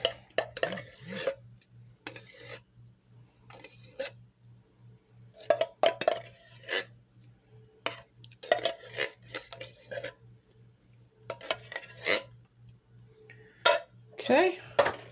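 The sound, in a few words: mixing biscuit dough with blueberry pie filling in a bowl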